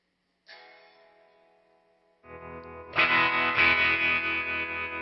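An electric guitar rings out through a HeadRush Gigboard effects processor, a distorted, chorused note followed by louder, thicker chords with echo, no talking.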